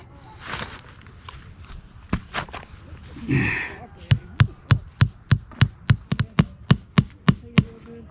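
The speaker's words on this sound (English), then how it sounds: "It's going to be a little bit more gentler with hammering it in." A few scattered knocks, then a run of evenly spaced metallic hammer strikes, close and sharp, driving a tent stake into the ground with a steady beat.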